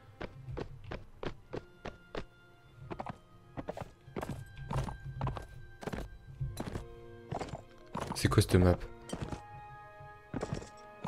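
Horse hooves clip-clopping in steady repeated thuds in the video game Mount and Blade Warband, moderately loud, with someone talking briefly over them.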